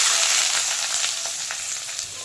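Chopped onion with green chilli, cinnamon, star anise and cloves frying in hot oil for an Indian chicken gravy, a loud, steady close sizzle with faint stirring crackles.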